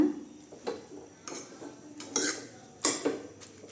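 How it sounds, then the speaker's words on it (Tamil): Spinach greens being stirred with a utensil in a cooking pot, a few soft scraping and clinking strokes spaced irregularly, close and fairly quiet with no talking. "சரி நல்லா கிண்டி விட்டுக்கலாங்க"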